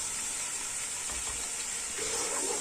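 Tomatoes added to a hot pan while cooking chicken pulao, a steady bright sizzle with soft stirring scrapes, quiet and continuous with no talk.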